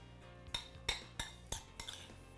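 A utensil mixes pico de gallo dressed with fresh lime juice in a bowl, five or six distinct clinks and scrapes of metal against the bowl in an uneven rhythm, close and fairly quiet.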